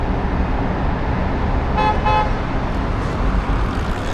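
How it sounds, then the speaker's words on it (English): A city bus honks twice in quick succession on a busy Los Angeles street, the short horn blasts rising clearly over a steady roar of surrounding traffic and engine noise. "The bus is honking its."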